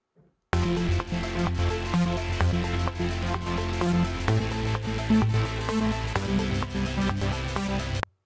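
A pulsing saw synth bass plays a repeating arpeggio, notes stepping quickly up and down in a steady rhythm, loud and alone after a brief silent start.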